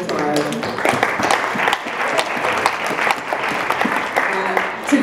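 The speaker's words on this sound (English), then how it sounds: "Let's give them a round of applause." A room full of people clapping steadily, sustained applause throughout with some voices mixed in.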